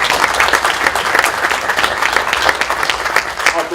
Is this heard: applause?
yes